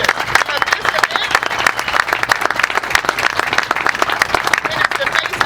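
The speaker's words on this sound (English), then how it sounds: "so I'd like to give our foundation office applause." Loud, dense applause from an audience at a groundbreaking ceremony for a new technical education building at American River College, honoring the foundation office; rapid overlapping claps close by, sustained evenly throughout.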